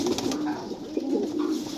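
Pigeons, including a white one, coo softly and repeatedly in a low murmuring rhythm at a bird dealer's, the calls close and steady with no talk over them.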